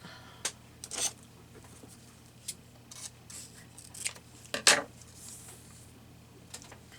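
Scissors cutting ribbon for a craft project, heard as a few sharp snips with the loudest near the middle, set against a quiet room with small handling clicks and no talk.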